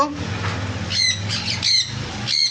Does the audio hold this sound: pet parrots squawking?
yes